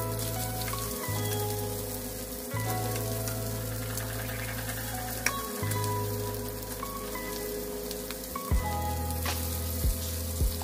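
Shrimp fry in a pan for garlic buttered shrimp made with Sprite, a steady close sizzle and crackle running throughout with a few clanks and scrapes from stirring.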